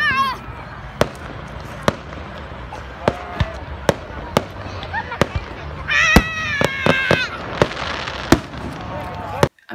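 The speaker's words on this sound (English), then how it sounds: "Get just out here watching some fireworks." Outdoor fireworks on a holiday weekend night pop and boom repeatedly at irregular intervals, loud and sharp, with a cluster of bursts toward the end and people's voices and whistling calls mixed in.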